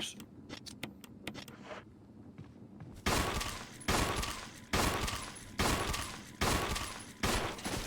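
Pistol fire in the Resident Evil remake, shown as six loud, evenly spaced shots, each with a long ringing tail, preceded by quieter clicks and game noises.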